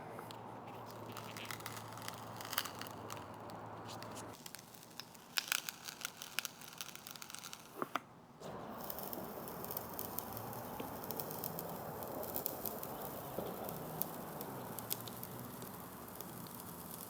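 Rotten hatch material on a boat being peeled up, giving a dense crackling, tearing and crinkling texture that carries on throughout with brief pauses and a few sharper snaps.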